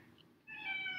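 A cat meows once to be let outside, a clear, moderately loud drawn-out cry rising after a brief quiet moment indoors.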